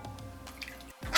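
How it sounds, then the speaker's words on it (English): Water poured into a cornstarch and sugar mix in a bowl, heard as close, light dripping and splashing with a brief pause and then a louder gush near the end. "to thin this out, we're gonna go ahead and add water to this"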